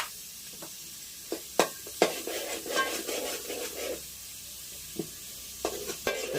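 Tomato, turmeric and onion cooking in a pan for crab curry over a wood-fired stove, a soft continuous sizzle broken by several sharp scrapes and clinks of stirring, fairly quiet with no speech.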